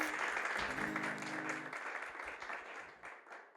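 A church congregation applauds during a Spanish-language sermon, a moderate wash of clapping with a brief tonal sound at the start, fading away toward the end.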